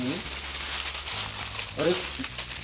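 Crinkling aluminium foil wrapped around hair rustles in short bursts alongside a talking voice, sharp papery crackles coming and going close by.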